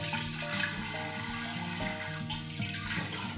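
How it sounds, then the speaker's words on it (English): Running tap water rinses out a kombucha jar, a steady close rush and splash filling the vessel, with ringing tones shifting as the water level and the jar's position change. "Rinse inside of my container."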